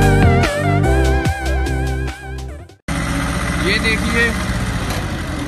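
A 20 horsepower tractor running a PTO driven trolley for paddy farming, its engine chugging at a steady idle close by, with someone talking over it and a brief break partway through.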